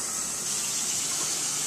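Hot water is poured steadily onto freeze-dried raw dog food, a continuous rushing, splashing pour that is close and fairly loud with no talk.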